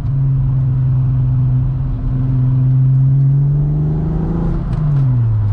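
A swapped 12-valve VR6 engine in a modified Mk2 GTI with cams and short gear ratios pulls hard from low revs, a loud, steady deep drone that climbs in pitch and then drops, with no talking.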